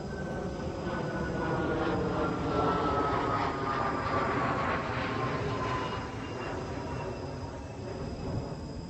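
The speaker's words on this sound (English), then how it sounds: "this plane up here was so loud that I thought it was about to use my yard as an emergency landing" A low-flying airplane passes overhead outdoors, a loud, steady engine roar with a slowly falling whine that fills the whole clip, close and continuous with no talking.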